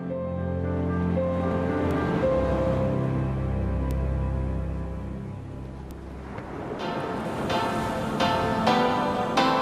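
Sea waves wash steadily onto a fine-sand beach sheltered by a semicircular breakwater, a continuous rolling surf with wind rushing across it and a brighter splash of breaking water near the end.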